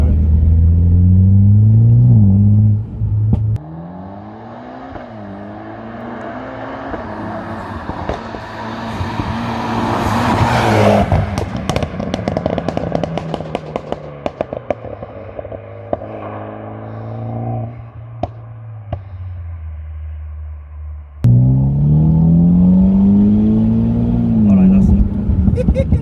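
A 400 bhp Mitsubishi Evo X FQ300 engine revving hard with climbing pitch sweeps, dropping to a lower rumble with crackling pops in the middle before revving loudly again, while people talk inside the car.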